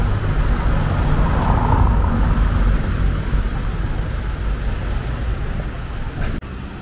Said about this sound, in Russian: Вот еще один такой автобус.